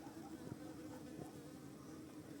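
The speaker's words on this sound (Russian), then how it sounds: "Вот пчелочки у нас сидят." Honey bees buzz around their hives at a home apiary, a steady, faint, droning hum with a few brief nearer passes and no talking.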